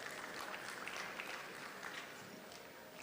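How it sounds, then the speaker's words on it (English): An audience at a hotel summit event applauds steadily for about three seconds, a dense but fairly distant wash of clapping that fades slightly toward the end. "Please, a round of applause for her."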